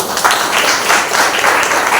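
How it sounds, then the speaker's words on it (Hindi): Congregation at a Sunday church service gives loud, steady applause to welcome a visitor, with dense, continuous clapping filling the room. "जोरदार ताली बजाइए"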